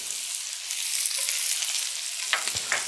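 Chopped shallot sizzles steadily in a hot pan while cooking veal Marsala, a constant bright frying hiss with a few light stirring clatters near the end and no talking.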